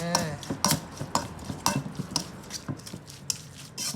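Northern Thai pork larb is tossed and stirred in a pan, with rapid, busy scraping and clinking of a utensil over a light sizzle. The stirring is close and continuous.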